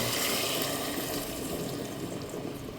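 Pork rib marinade is poured into a pressure cooker, giving a steady, close liquid splashing and rushing that stays fairly even throughout with no talk.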